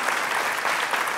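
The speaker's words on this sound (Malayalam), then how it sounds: "നമുക്കൊന്ന് കൈയടിക്കാതെ." Audience applause at a televised Malayalam film event, a dense, steady burst of clapping from a large crowd filling the whole short stretch with no voices on top.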